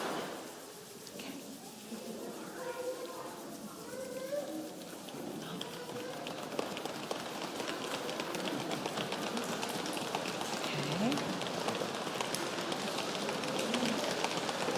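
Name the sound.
congregation imitating rain sounds with hands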